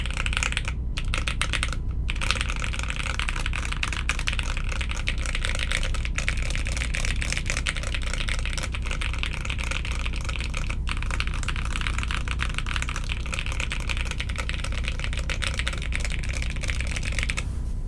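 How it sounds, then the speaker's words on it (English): Continuous typing on Jerkin 30 and Lubrigante custom mechanical keyboard builds, a dense stream of clacky keystrokes with a couple of brief pauses near the start, close and steady throughout with no talking. "we're now going to listen to the typing sound"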